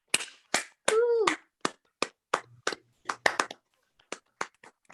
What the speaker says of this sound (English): Please unmute yourself and give her a round of applause.